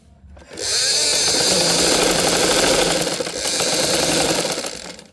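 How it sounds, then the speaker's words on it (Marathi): An electric sewing machine stitches cloth for a mat cover, starting after a brief pause and whirring loudly and steadily at close range, with a short dip partway before picking up again. "हा भाग पण आपण डायरेक्ट शिवून घेणार आहोत"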